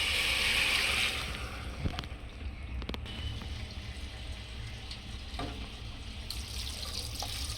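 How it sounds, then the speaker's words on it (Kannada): Water poured from a glass into a pressure cooker while cooking sambar makes a steady splashing hiss that lasts throughout, heard fairly close with a few light knocks and no talk. "ಇವಾಗ ನೀರು ಹಾಕ್ತಾಯಿದ್ದೀನಿ."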